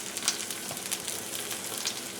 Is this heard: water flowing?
no